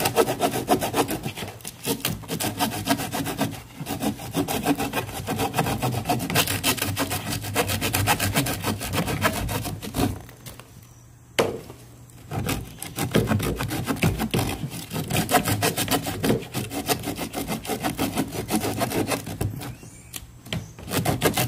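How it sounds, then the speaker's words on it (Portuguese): The small saw blade of a Ganzo 301-H multitool cuts through wood in fast, steady rasping back-and-forth strokes, close and continuous, with a brief pause partway through. "Vamos testar a serra"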